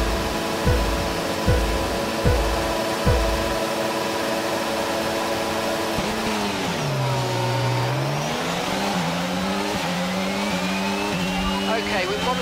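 A race car's internal combustion engine at a race in Hungary runs loud and steady, with a few sharp revving bursts early on, then a sustained whining drone that dips and climbs in pitch as it shifts.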